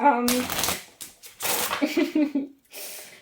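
A deck of cards being shuffled, giving quick fluttering riffles and taps in short bursts mixed with speech, up close and moderately loud.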